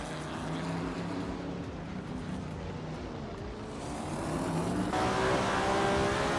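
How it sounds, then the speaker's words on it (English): A 1970 Ford Mustang Boss in a racing video game, its engine droning steadily with a rising roar toward the end, loud and continuous with no talk. "Edsos 21 is driving a 1970 Ford Mustang Boss"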